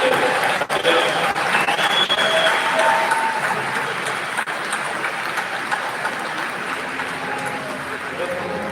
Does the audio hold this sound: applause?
yes